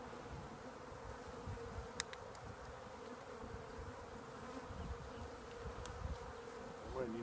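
Honeybees buzz in a hive during a late winter inspection, a faint, steady, close hum that runs throughout with no talking.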